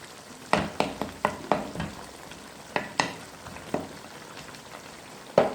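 Peeled tomatoes being mashed with chicken pieces in a karahi, a run of clattering spoon strikes and scrapes against the metal pan over a light sizzle, close and uneven in rhythm.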